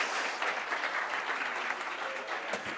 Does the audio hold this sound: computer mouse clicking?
no